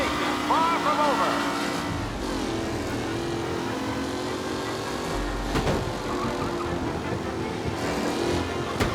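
Race cars speed past in a Mafia: Definitive Edition video game race, a steady layered engine roar with whining revs, loud and continuous, mixed with other game sounds.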